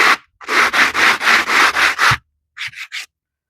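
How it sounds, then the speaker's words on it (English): Sanding strokes across a painted asphalt surface: seven steady, loud back-and-forth rubs, then a pause and three quicker, shorter strokes, with no talking. "If we sand it, I'll show you that."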